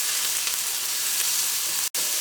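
Onion, garlic, ginger and curry leaves sauté in a pan for capsicum masala, giving a steady bright sizzle that runs throughout with one brief dropout near the end.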